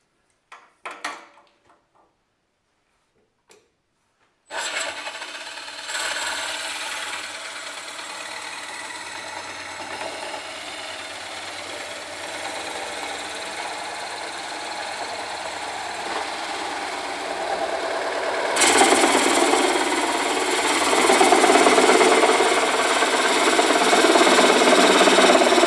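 A STRATOS XL wood lathe cores a large maple bowl with a Woodcut Bowl Saver. After a few faint clicks, the motor spins up into a steady, loud whirring drone with a scraping cutting texture that grows harsher toward the end.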